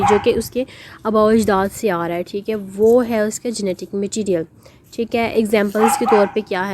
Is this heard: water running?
no